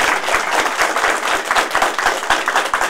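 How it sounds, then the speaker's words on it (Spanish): A crowd at a community land-handover event in El Mamonal applauds loudly, a dense, sustained burst of many hands clapping close by with no speech over it. "yo quiero pedir un aplauso fuerte para don Miguel y el ingeniero Carlos Parra,"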